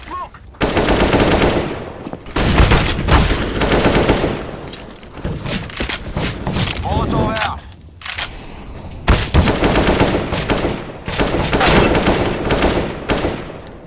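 Dense, loud automatic gunfire from a PvP shooter game, long rattling bursts separated by brief pauses, close and continuous with scattered single shots.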